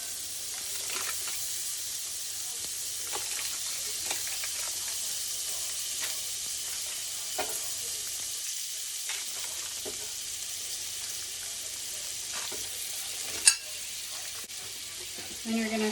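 Butter melting in a very hot pan, about half a stick, giving a steady close sizzle and hiss with light scraping and a sharp clink near the end, no voices over it.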